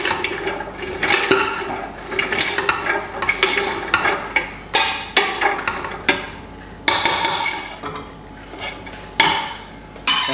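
A spoon stirs chopped carrot and swede in a pan of hot water, giving repeated scraping, clattering strokes in an irregular rhythm, close and clear, with no talking.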